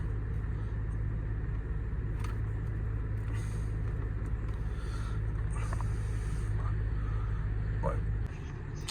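A 2012 Range Rover Sport 3.0 TDV6 diesel with an 8-speed automatic idles with a steady low rumble that continues close up and then drops off abruptly near the end.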